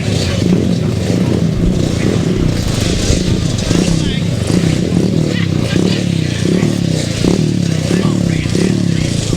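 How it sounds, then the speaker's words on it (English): Grasstrack racing motorcycles rev at a 2007 meeting in High Easter in April, their loud engines roaring and clattering continuously close by, mixed with crowd noise and people talking over them. "How many trying to rev that bike?"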